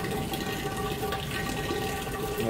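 Beer runs from a tap during forced carbonation, with the faucet and its tubing being cleaned; a steady, close gush of liquid flows without a break and no one talks.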